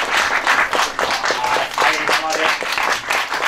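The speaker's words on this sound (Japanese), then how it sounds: "まばらな拍手をありがとうございます。" An audience claps at a kagura performance by the Otsuka Kagura troupe during an autumn shrine festival in Japan. The clapping is close, rapid and fairly dense, and it runs steadily for a few seconds.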